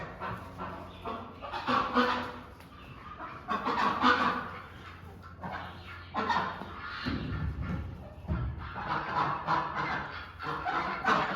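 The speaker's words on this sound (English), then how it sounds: "if you can hear me over the ducks" Busy, overlapping quacking and clucking from a crowd of ducks inside a barn, steady and fairly loud throughout, with no one talking.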